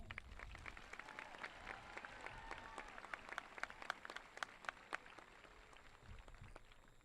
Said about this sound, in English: Please give these outstanding students one last round of applause.